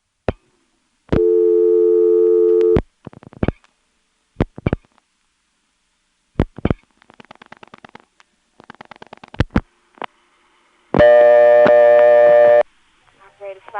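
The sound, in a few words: telephone register sender dialing digits through step-by-step exchange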